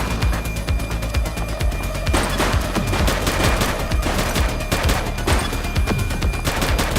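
Rapid gunfire in the video game The Precinct: loud, sustained bursts of automatic shots crackle in quick succession over several seconds, with a few heavier booms, near and mostly alone.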